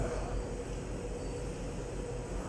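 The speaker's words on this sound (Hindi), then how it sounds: "ये जो है यहाँ पे 6 bottles at a time fill हो रही है" Steady mechanical whirring and hum of a bottle filling machine, constant and fairly quiet with no talking.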